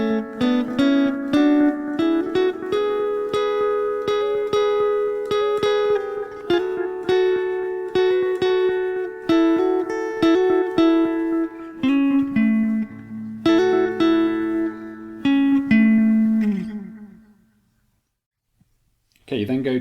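Electric guitar plays part of an instrumental, a clear run of picked notes over a steady sustained bass line, close and continuous for about seventeen seconds before fading to silence.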